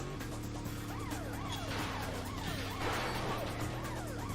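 A police siren wails in a rising and falling pattern over a constant engine drone in the Carmageddon racing game, the siren sounding moderately distant and continuing throughout.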